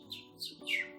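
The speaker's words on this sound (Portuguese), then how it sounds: "O primeiro acordou, bateu as asas, se espreguiçou, cantou" A bird-song sound effect in a children's educational school programme: three quick, faint chirps rising and sweeping in pitch, heard alone.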